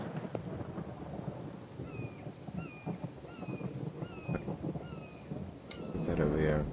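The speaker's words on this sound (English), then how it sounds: "it's raining" Outdoor rain with thunder: a steady wash of falling rain under low rumbling, while a bird chirps repeatedly nearby and a voice is briefly heard.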